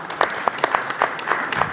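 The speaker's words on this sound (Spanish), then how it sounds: "Un aplauso también" Audience applause at a public security forum panel discussion in Chile, a steady crowd clapping with distinct individual claps popping out, moderately loud and close.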